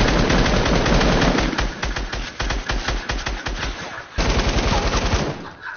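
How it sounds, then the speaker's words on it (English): Automatic gunfire in a video game fires in loud rapid bursts, close and dense, with brief pauses between volleys. "Stop shooting at me, bro."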